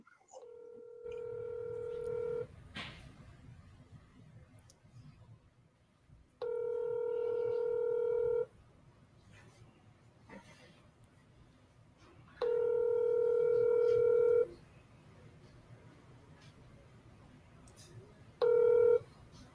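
Phone dialing for a sales call: a series of short touch-tone beeps followed by repeated steady ringback tones, several rings spaced evenly apart, fairly quiet with faint background murmur.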